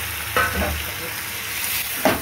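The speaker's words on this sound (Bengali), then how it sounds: "মাথাটা দিয়ে বোয়াল মাছের মাথাগুলো দিয়ে মশলার সাথে ভালো করে কষিয়ে নিচ্ছি" Boal fish heads frying in a spice paste, a steady close sizzle broken by two sharp stirring scrapes, with no voices over it.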